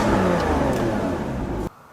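Porsche Boxster S 981 engine with the roof off, a loud, steady revving roar held for over a second and a half before cutting off abruptly into near silence.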